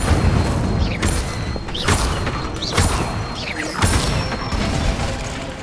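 Incendio fire spells cast repeatedly in Hogwarts Legacy, a dense, loud magical whoosh and crackle with rhythmic surging bursts roughly every second over a continuous roaring bed.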